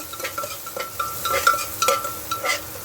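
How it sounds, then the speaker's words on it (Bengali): A ladle stirs onions frying in hot oil, with steady sizzling under repeated scraping strokes against the pan, close and fairly loud. "হাতা দিয়ে এবার ভালো করে নাড়াচাড়া করতে হবে"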